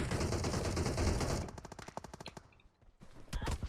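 Gunfire in PUBG Mobile: a dense, rapid automatic burst that thins into separate sharp cracks, fades into a short quiet gap, then returns with a few more close shots.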